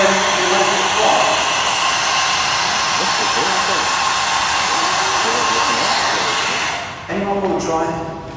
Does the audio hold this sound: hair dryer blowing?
yes